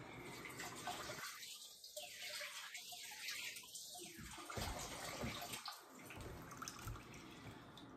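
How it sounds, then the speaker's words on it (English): Running tap water splashes at close range while hands are washed beneath it, the steady stream broken by uneven gurgles and spatters as the hands move through the flow. "Give me a chance to wash my hands."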